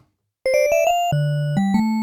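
A bright, buzzy MiniFreak synthesizer using a Polygon wavetable oscillator plays a short run of notes that climb in pitch, then drops to a few lower, sustained tones, alone and loud.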